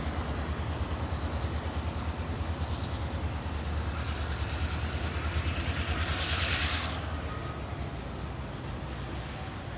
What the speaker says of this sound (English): Number 16 is another high-nose GP38-2 built for the Southern Railway